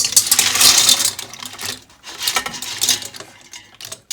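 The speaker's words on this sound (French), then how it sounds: "on va maintenant verser les moules dans l'écumoire de manière à garder le jus de cuisson" Cooked mussels are poured into a metal skimmer to save their cooking juice, giving a loud rattling clatter of shells against metal in two bursts with a quieter gap between them.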